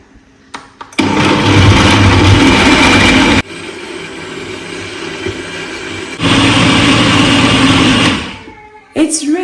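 An electric blender whirs loudly as it purees a smoothie of milk, unsalted peanuts, banana and dates, running in two long bursts with a brief lower-pitched pause between them, then winding down, with a voice speaking over it.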